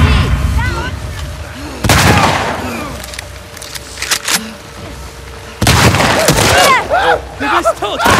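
Two loud shotgun blasts about four seconds apart in the video game The Last of Us Part II, each followed by clattering debris, with excited voices talking between them.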